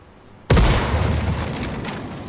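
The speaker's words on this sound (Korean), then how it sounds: "수류탄 조심." A grenade detonates in the tactical shooter Ground Branch, an abrupt loud boom out of near silence followed by a long rumbling, crackling tail that slowly fades.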